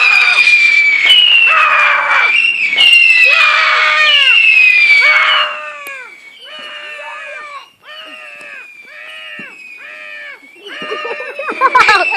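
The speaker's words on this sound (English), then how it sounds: "you literally just saw that firework" Fireworks on fireworks day send out a loud, continuous run of shrill, sweeping whistles and screeches that rise and fall one after another, with crackle and crowd noise underneath.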